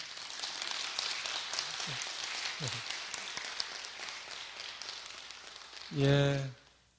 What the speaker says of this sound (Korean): 박수 주시려면